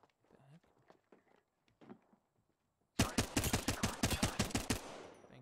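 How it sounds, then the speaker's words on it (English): Gunfire in the battle royale game Apex Legends: after quiet footsteps and light movement, a loud burst of rapid automatic shots fires in quick succession for a couple of seconds, then stops. "Stop popping shots."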